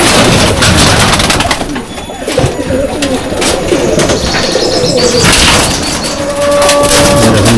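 Pigeons in a champion loft coo and call continuously over a busy, rustling background, with occasional faint human voices mixed in.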